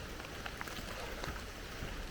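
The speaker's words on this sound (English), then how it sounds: "It's raining off and on and extremely windy." Rain falling and strong gusting wind outdoors on a hiking trail in Vermont, a steady broadband rush with scattered drop patters throughout, fairly loud and continuous with no voices.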